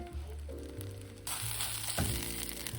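Rice sautéing in oil in a pot, a steady close sizzle with occasional stirring, growing brighter and louder partway through as the frying intensifies.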